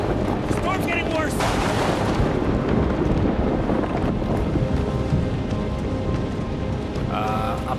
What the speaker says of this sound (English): The storm's getting worse.